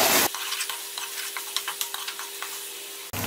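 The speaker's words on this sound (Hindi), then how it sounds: "हम मजीद इसे एक मिनट जो है वो फ्राई करते हैं।" Onions fry in a pan with a close, crackling sizzle and a string of quick spatula scrapes and taps, bracketed by short louder bursts at start and end.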